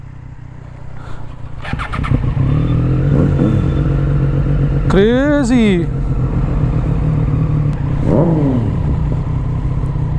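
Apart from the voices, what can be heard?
motorcycle with aftermarket exhaust revving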